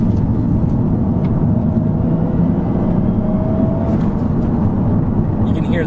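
A stock 2.5-liter turbocharged Toyota Soarer engine revs steadily and loudly up close, a dense low mechanical roar holding throughout with a faint rising whine of the turbo spooling over it.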